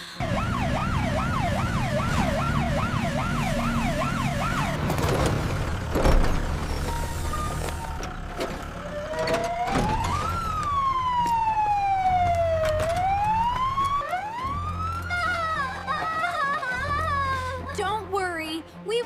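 An ambulance's siren wails loudly with a fast, warbling yelp, then shifts into slower rising and falling wails as the vehicle stays nearby. Traffic rumbles beneath it and voices are heard speaking.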